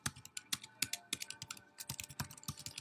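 Code being typed on a computer keyboard, a steady run of quick, soft key clicks with irregular rhythm, close and quiet with no talking.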